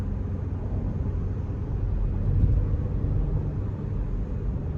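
A 2025 Honda Pilot Touring engine accelerating in sport mode, a steady low rumble that swells slightly midway, heard from inside the cabin with no one speaking.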